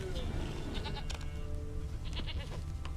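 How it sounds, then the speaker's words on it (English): A little goat bleats a few times over a noisy outdoor background. "Okay, where is this little goat?"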